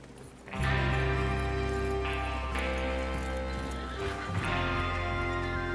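Horses setting off in the Red Dead Redemption II video game, a loud steady beat of hooves that starts abruptly and stays close, over a constant low rumble, with no talk.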